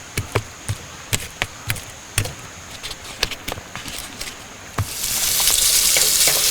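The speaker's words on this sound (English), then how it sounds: "that bacon is starting to cook up" Bacon sizzles in a pan at a campsite, with sharp pops and clicks of utensils against the pan at first, then the frying swells into a loud, steady hiss near the end.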